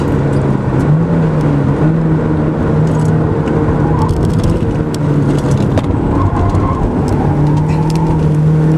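A race car's engine revs hard on the Magny-Cours circuit, a loud continuous drone with shifting pitch as it climbs through the gears, close and unbroken for several seconds, with a driver's voice briefly over it.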